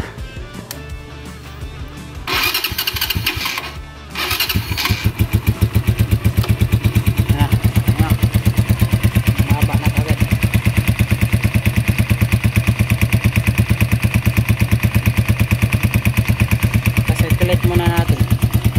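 Keeway CR152 motorcycle engine cranks and catches, then settles into a steady, rapid idle with a clattery pulse, close and continuous after the start.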